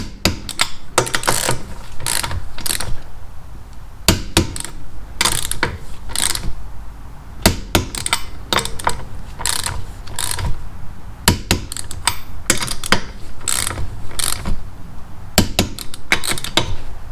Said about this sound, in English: let's torque these down.